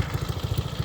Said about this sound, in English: With the header and the muffler, and it seems like it's a little throatier with the exhaust beefed up to the 2-inch.